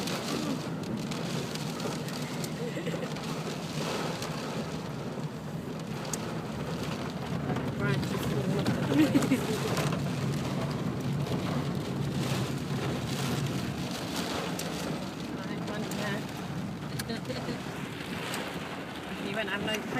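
Heavy rain pours steadily throughout, a dense, continuous roar of water drumming on a surface, loud and close with no breaks.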